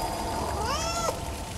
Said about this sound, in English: Oh my gosh, there's a kitty cat.